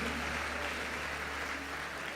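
Church congregation applauding during a worship service, a dense, steady wash of many hands clapping at a distance, fairly faint and continuous without breaks.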